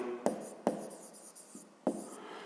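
A math expression is written by hand, with three sharp pen taps followed by scratchy strokes, close and quiet, and no talking.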